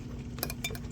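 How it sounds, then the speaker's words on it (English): A lid is placed onto a hot jar of rendered tallow, giving a few quick, light metallic clinks over a steady low hum, faint and close. "I just go ahead and put the lid on"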